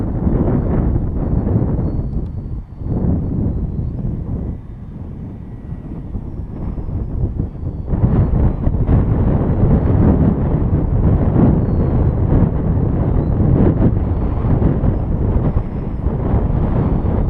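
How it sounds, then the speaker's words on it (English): Strong wind buffeting the microphone during an E-Flite Adagio 280 RC plane flight, a loud continuous rumbling roar that dips briefly and then grows heavier. "The wind going up there."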